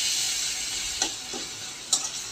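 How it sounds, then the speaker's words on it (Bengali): Ginger garlic paste fries in a pan for a ridge gourd and goat curry, a steady bright sizzle with two or three soft spoon taps cutting through it. "এখন দিয়ে দিচ্ছি আমি 1 চামচ আদা রসুন বাটা।"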